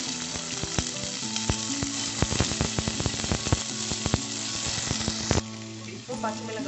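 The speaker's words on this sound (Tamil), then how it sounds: "இப்போ கருவேப்பிலை வெங்காயம் போட்டு நல்லா எண்ணெயில் வரும்." Curry leaves and onion frying in hot oil with fennel seeds and urad dal for a green chilli sambar: loud, close, continuous sizzling with sharp popping crackles that quiets near the end.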